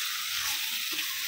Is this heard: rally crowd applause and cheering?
no